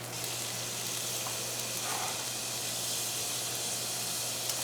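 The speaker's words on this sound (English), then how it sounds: "So our garlic is starting to sizzle with our oil." Garlic and onion sizzling in oil in a pan at steady heat for a tomato sauce, heard as a soft continuous frying hiss, quiet and even, with no voices.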